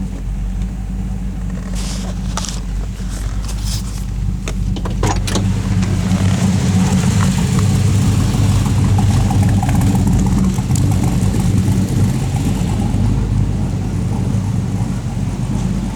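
An Oldsmobile Custom Cruiser wagon with a swapped-in 6.0 LS V8, driving with a steady low engine drone and road rumble that stay loud throughout, plus a few brief clicks and rattles early on and no talking.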